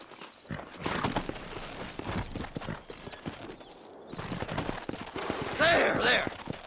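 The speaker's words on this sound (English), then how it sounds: "Horses are over here!" Rhythmic hoofbeats of galloping horses run through a busy Red Dead Redemption game soundscape, with voices talking over them and a brief burst of louder action near the end.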